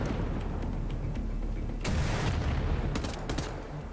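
Shotgun fire in the first-person shooter Wolfenstein: The New Order, a burst of sharp gunshots and booms over a constant loud game rumble.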